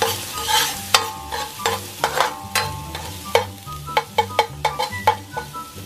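Ginger and garlic sautéing in a pan with a steady sizzle, broken by repeated sharp clinks and scrapes of a utensil stirring against the pan, alone and close.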